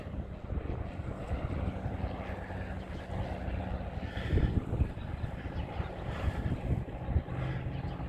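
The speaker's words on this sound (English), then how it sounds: "Nice little Cessna." A small Cessna propeller plane passes over on a windy day, its engine a low steady drone mixed with gusty wind rumble, no one speaking.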